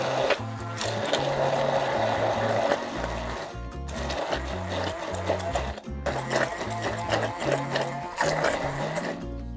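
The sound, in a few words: blender blending artichokes with olive oil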